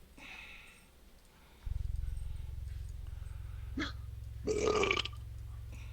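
A fart sound effect plays during an online 5e tabletop roleplaying session: a long, low, rasping buzz of about four seconds, fairly loud and steady, with a few faint clicks and noises over it.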